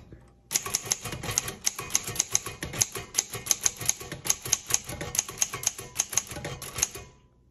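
Rapid, uneven clacking of keys on a 1956 Underwood Universal manual typewriter, close and crisp, each strike sharp and distinct in a steady stream of typing with no talking.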